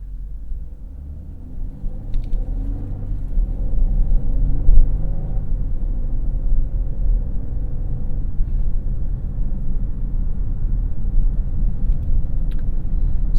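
A 2022 Genesis GV70 Sport Prestige with 375 hp, heard from inside the cabin as its engine swells and blips during a paddle-shift downshift with rev matching. It is a steady, fairly loud low rumble with a brief rise midway and no talking.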